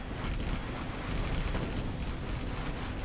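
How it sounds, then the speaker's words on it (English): Spectre gunship firing in Command & Conquer: Generals Zero Hour, a continuous dense roar of heavy gunfire and rumbling blasts filling the whole stretch at steady loudness, with no voices. "Spectre is shooting everywhere."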